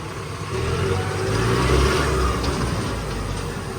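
Turbocharged tractor engine revving outdoors, a loud continuous rumble that swells toward the middle and eases slightly after, with no talk.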